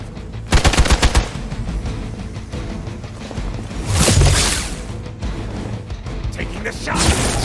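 Rapid machine-gun bursts and gunfire from the video game Marvel's Midnight Suns, a loud volley near the start followed by further shots and impacts amid game effects, with a character's voice speaking over the action.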